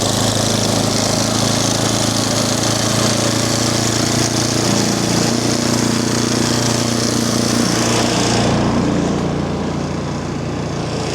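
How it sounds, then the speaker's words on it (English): A snowblower engine runs steadily in deep snow, a loud droning rumble with churning hiss that holds constant, then the high hiss drops away near the end as the load changes. "this snowblower has surprised me before"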